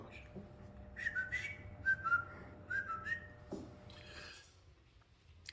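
A person whistles a short, wavering tune in a workshop, several bright notes rising and falling over quiet background sounds. Near the end there is a brief rustle and a faint voice.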